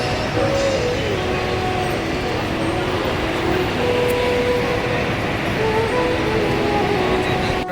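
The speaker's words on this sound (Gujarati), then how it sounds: "ત્યાં રેલવે સ્ટેશનથી ટ્રેન જાય છે" A steady, broad rumble of a train passing from Ramdevra railway station fills the air continuously, with faint tonal squeals riding over the roar.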